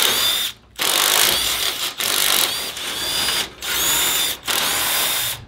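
A pneumatic impact wrench works loose bolts on a fire-damaged 1977 Ford F250, firing in four loud, close bursts of rattling hammering separated by short pauses, with no talking.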